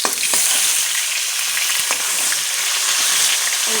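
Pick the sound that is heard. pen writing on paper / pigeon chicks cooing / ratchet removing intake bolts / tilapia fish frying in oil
tilapia fish frying in oil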